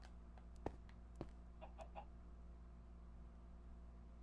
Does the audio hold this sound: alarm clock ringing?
no